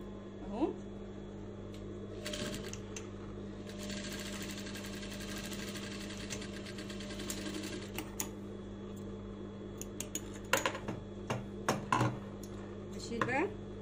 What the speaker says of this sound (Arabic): هثبت بس برضو بالخياطة هنا علشان ابقى انا خلاص خلصت الجزء ده، فانا بثبته بالخياطة